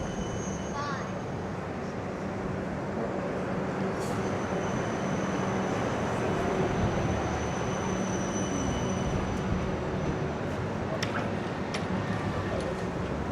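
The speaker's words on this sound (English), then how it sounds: "we'll have another look at these trams." A tram passes through Anzac metro tunnel station, a continuous loud rumble of wheels on rail filling the space, with faint squeals and clanks, while people talk over it.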